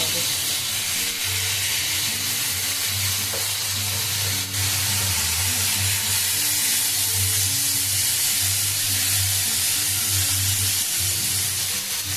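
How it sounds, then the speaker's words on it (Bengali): Onion fries with sauce in a hot pan, a loud continuous sizzle and hiss with a low rumbling undertone, close and steady throughout. "পেঁয়াজ সস দিয়ে একটুখানি ভেজে নিতে"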